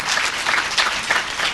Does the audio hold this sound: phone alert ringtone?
no